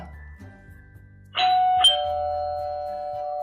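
A home doorbell announces an online shopping delivery with a clear two-tone chime. The second tone rings on and fades slowly in a quiet room.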